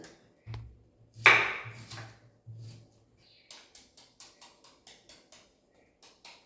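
A knife chops banana flower on a cutting board: a few heavier, uneven cuts first, then a quick regular series of light, crisp taps, close and clear in a quiet room.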